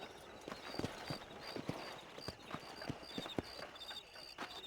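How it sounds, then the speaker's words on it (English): Rhythmic clip-clop of horse hooves trotting on hard ground in the video game Red Dead Redemption, steady and moderately close, over a faint high ambient hum. "These are fine horses"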